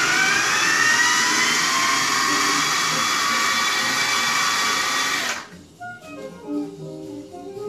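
Kitchen blender whirring loudly and steadily as it blends seasoning for pasteles meat, then cutting off abruptly after about five seconds, leaving quiet kitchen sounds.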